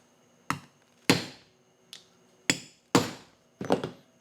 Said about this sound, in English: that's how you set a rivet